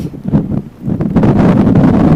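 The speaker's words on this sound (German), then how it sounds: "das bewegt sich, es ist sehr windig" Strong wind on a bridge over water buffets the microphone in loud, rumbling gusts, with a rushing roar that swells and barely lets up.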